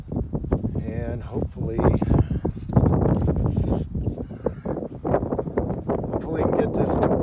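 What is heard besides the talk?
gusty wind blowing into the microphone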